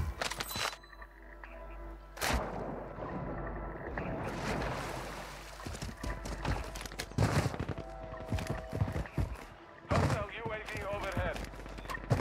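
Loud, sharp blasts from the Defy shotgun in a shooter video game, several heavy shots spread out with gaps between them, under an ongoing talking voice.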